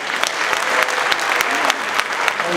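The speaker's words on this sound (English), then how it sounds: "How about another round of applause for our women's chorus?" A school winter concert audience applauds the women's chorus, steady loud clapping filling the hall throughout, with a few sharper individual claps standing out.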